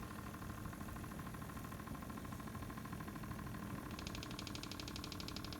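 Small motors installed in the Bussard collectors of a Hallmark Keepsake Enterprise ship ornament give a faint, steady electric whir with a fine rapid ticking that grows more distinct near the end, with no voices.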